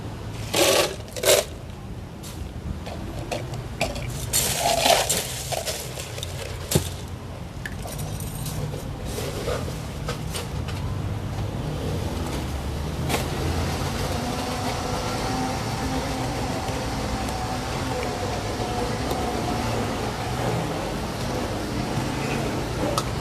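A blender mixes a large cup of strong cocoa drink with Hokkaido milk. A few loud clattering knocks lead into a steady, loud whirring grind that runs for more than fifteen seconds.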